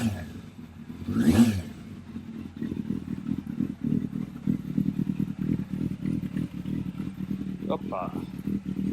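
A Yamaha Fazer 600 motorcycle with 23,000 miles cranks and fires up, then settles into a steady, throbbing idle close by, with a brief clattery rise near the start.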